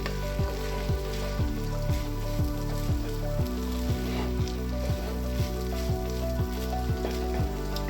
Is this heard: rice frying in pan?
yes